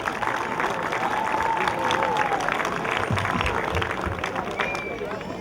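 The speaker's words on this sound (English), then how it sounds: "So big round of applause for all the high school players for helping out" Crowd applause for high school players at a youth basketball league opening event, a steady mass of clapping and murmuring through the hall, with voices mixed in throughout.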